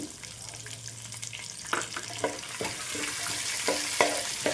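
A handful of curry leaves sizzles in hot oil for a spicy puffed rice mixture, with steady frying hiss and occasional scraping stirs close by.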